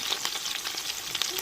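Sliced onions, curry leaves and green chillies sauté in oil, a close, steady sizzle broken by quick scraping stirs in a brisk, irregular rhythm.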